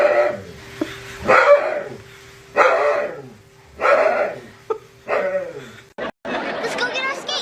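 A jealous dog gives several loud, close barks and yelps in bursts separated by short pauses, mixed with excited chatter and people's voices.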